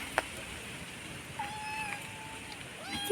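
A kitten meows a few times outdoors at night, thin drawn-out cries near the middle and end of the clip over a quiet, faintly noisy background, with a soft knock near the start.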